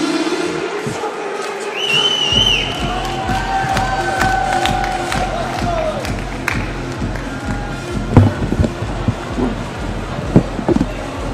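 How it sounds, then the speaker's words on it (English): Crowd at the Kingdom Combat 8 fight event in Leeds roars and cheers loudly throughout, over a steady thumping beat of music, with occasional shouts rising above the din. "Gotta love the Leeds crowd."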